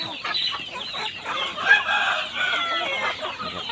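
A crowd of chickens clucks and squawks together, busy overlapping calls nearby with no one talking.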